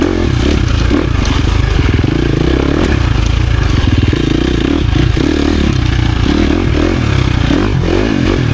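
A 2023 KTM 350 XC-F dirt bike engine drones loud and steady at close range, its rough mechanical buzz holding throughout with slight rises and falls in pitch.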